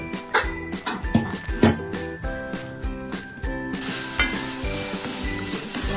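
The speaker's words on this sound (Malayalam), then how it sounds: "റൈസിൽ ചേർക്കാനുള്ള സവോളയാണ് നമ്മൾ ഫ്രൈ ചെയ്തെടുക്കുന്നത്." Sliced onions fry in ghee for ghee rice, sizzling loudly and close while a spatula stirs and scrapes the pan in a regular rhythm of knocks and clinks.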